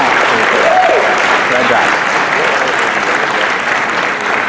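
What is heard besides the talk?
audience applause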